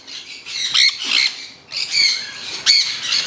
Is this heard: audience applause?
no